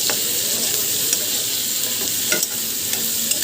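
Chopped onion and green chili hit hot oil with fried shrimp, giving a steady close sizzle with occasional stirring scrapes throughout.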